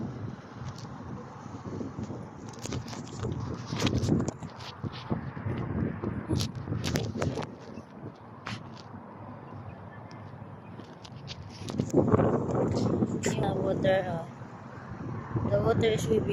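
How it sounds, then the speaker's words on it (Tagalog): Wind gusting across the open seafront at Corniche beach in Abu Dhabi, buffeting the microphone with rough rumbling bursts that swell and ease throughout, with water and a voice talking faintly at times underneath. "It's a windy today, that's why the water is sweeping."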